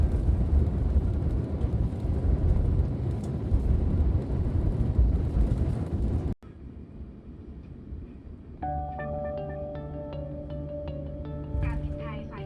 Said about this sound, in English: You can hear the reverse thrust kicking in as the A350 slows down.